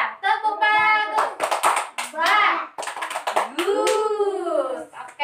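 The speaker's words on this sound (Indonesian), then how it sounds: "Kasih tepuk bagus untuk Salsabila. Tepuk bagus." Schoolchildren in a second-grade Indonesian civics class give a rhythmic 'tepuk bagus' clap, with quick bursts of hand claps in a patterned beat mixed with children's voices chanting over and around them.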